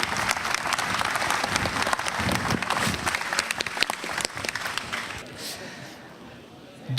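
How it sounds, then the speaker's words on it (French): A room full of people applauds a retiring colleague at a company's thirtieth-anniversary gathering, dense sustained clapping that thins out and fades toward the end. "vous pouvez l'applaudir"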